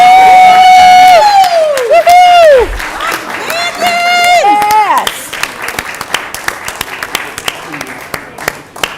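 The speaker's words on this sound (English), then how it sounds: "give these champions a round of applause" Audience at a city council meeting in Fairfield cheering and applauding honored champions, with loud whoops and shouting over steady clapping that gradually thins into scattered claps.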